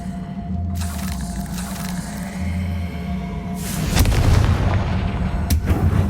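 Confringo blasting spells go off in the Hogwarts Legacy video game, loud booming bursts that crack and rumble in quick succession, close up, over a low musical bed with no talking.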